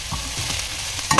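Pork curry with ginger-garlic paste stirred in a pan, a brief close burst of sizzling with a scrape of the spoon and a small clink at the end.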